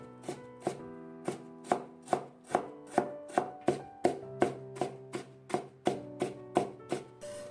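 A knife cuts carrot slices into thin shreds on a board, making a steady, evenly paced run of close, sharp chops, about two to three per second, with nothing else audible.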